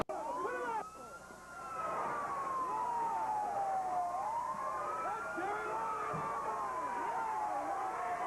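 An ambulance siren wails at a Memphis Wrestling event, its rising and falling sweeps continuous and moderately loud over a low background rumble.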